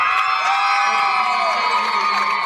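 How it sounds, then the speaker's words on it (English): Crowd cheering and whooping in a gym during a women's college basketball game, a loud sustained burst of shouts with high-pitched voices. "nice round of applause for Earnhardt"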